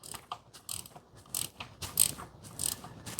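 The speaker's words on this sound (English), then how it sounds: "I'm using the bolt to pull that seal in" A ratchet works a bolt to draw a shift shaft seal into a 2010 Jeep Grand Cherokee NAG1 transmission, giving repeated short, crisp clicking strokes close by with brief gaps between them.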